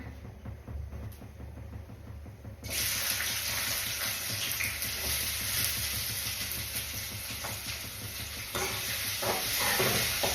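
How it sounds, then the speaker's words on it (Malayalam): Onions and green chillies fry in hot oil while being stirred, a dense, steady sizzle that grows louder and brighter partway through, close up and continuous with occasional scraping, and no talking over it. "ആദ്യം എണ്ണ ഒഴിച്ചിട്ട് നമ്മൾ നേരത്തെ അരിഞ്ഞ് വെച്ചിട്ടുള്ള ഉള്ളിയും പച്ചമുളകൊക്കെ ചേർത്ത് ഇളക്കിക്കൊണ്ടിരിക്കുകയാണ്"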